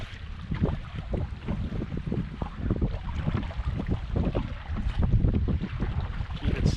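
Wind buffets a canoe paddled into a rough headwind along a shoreline, with choppy waves slapping the hull in irregular close thumps over steady gusty rush.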